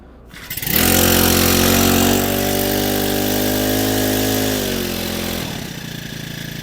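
A Grunhelm GR-31TS four-stroke brush cutter engine catches and revs up to a loud, steady buzzing drone near by, holds for several seconds, then drops toward a lower idle as the throttle is released, with no talk over it.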